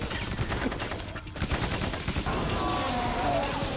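Gunfire in the video game Metal Gear Solid 2 crackles in dense rapid volleys over a loud, noisy game soundscape, sustained throughout with a brief lull midway.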